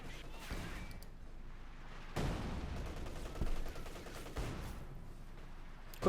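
Battle sounds from Company of Heroes 2 keep up a steady low roar of distant gunfire and machine-gun bursts, with a few heavier thuds standing out, and no voices over the top.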